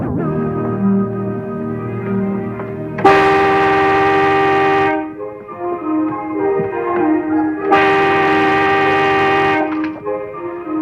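A horn sounds two long, loud, sustained blasts separated by a few seconds, with quieter rumbling between them.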